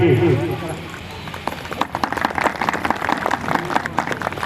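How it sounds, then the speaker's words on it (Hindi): Crowd clapping builds into dense, loud applause welcoming a guest at an annual village gathering in Salhewada, Balaghat, with a voice speaking at the start. "एक बार जोरदार ताली बजाकर स्वागत कीजिएगा"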